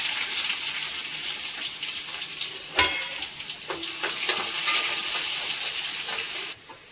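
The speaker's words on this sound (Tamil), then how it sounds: "இப்போ வெட்டி வச்ச வெங்காயம் போட்டுக்கலாம்." Chopped onions hit hot oil already crackling with mustard seeds, cumin and fenugreek, giving a steady, close sizzle with a brief clatter midway; it cuts off abruptly near the end.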